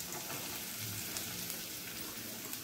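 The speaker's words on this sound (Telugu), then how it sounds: "ఉల్లిపాయలు వేసి ఒక్క 2 నిమిషాలు అలా వేయించుదాం" Onions and green chillies frying in a pan make a faint, steady crackling sizzle with light scattered pops, heard alone without speech.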